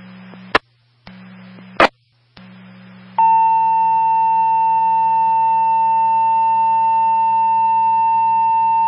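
Fire department radio dispatch tones for a fire alarm in Lowell, Massachusetts: a few brief clicks and beeps, then a loud, long, steady electronic tone holding without break over a faint background hum.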